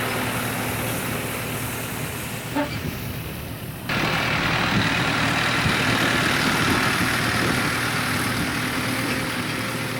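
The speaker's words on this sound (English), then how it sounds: "I've got all 6 bales on the trailer, and I'm pulling away." An antique hay wagon loaded with six bales is pulled away by a tractor, a steady low engine rumble running continuously and growing slightly louder midway as it moves off, with no talk heard.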